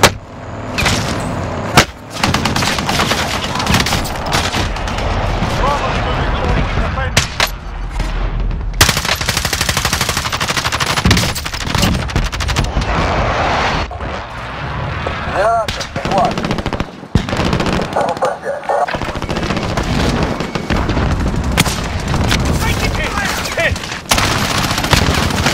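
Heavy incoming gunfire sounds as loud, near, continuous machine-gun bursts and volleys across the whole stretch, with short pauses and occasional voices mixed in.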